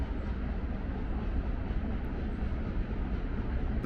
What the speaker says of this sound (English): there's a Union Pacific train going through